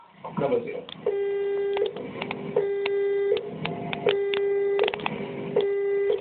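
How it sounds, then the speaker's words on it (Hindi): A repeating telephone busy tone, regular on-off beeps in steady rhythm, heard clearly over a phone line with some voice underneath. "ये फोन लगातार एंगेज टोन ही शो कर रहा है।"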